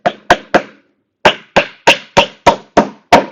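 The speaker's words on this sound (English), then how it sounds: "we'll go from that 1 nail we put in where we have good contact, and we'll nail away from it" Hammer strikes drive nails into the joint of a wooden 10-frame beehive box: three quick blows, a short pause, then six more evenly spaced sharp knocks, close and loud, with no talking.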